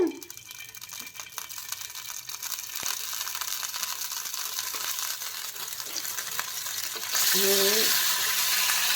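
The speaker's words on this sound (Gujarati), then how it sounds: "એક પેનમાં અડધી ચમચી જેટલું તેલ લીધું છે અને એમાં આપણે 1 ચમચી જેટલો શેઝવાન સોસ નાખશું આપણે" Schezwan sauce fries in a little oil in a pan, giving a steady, close crackling sizzle with small scraping clicks that swells louder near the end, and a brief voice is heard.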